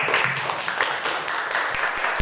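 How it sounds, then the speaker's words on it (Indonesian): A classroom group of students claps for classmates who presented a poster, a dense, moderately loud patter of hands that holds steady for a couple of seconds. "tepuk tangan dulu untuk kelompok 1"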